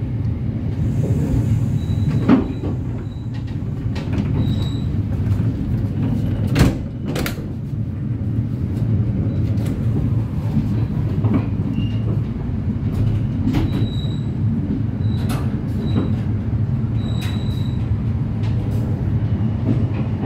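The KA Menoreh train stands at Pekalongan station near midnight, giving off a steady low rumble with the clatter of cars and scattered metallic clanks and squeals, loud and close, with no talk.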